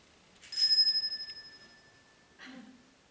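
A small bell gives a single bright ding that rings out and slowly fades, followed by a faint rustle, at a holiday gathering.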